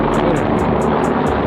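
A helicopter passes overhead in London, its rotor thrum a steady, loud broadband rush with a fast rhythmic pulsing, blended with busy street noise.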